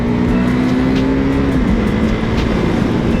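First-generation KTM Duke 390 motorcycle engine held at half throttle: a loud, continuous droning roar with a steady pitch that dips slightly partway through, close by and without talk.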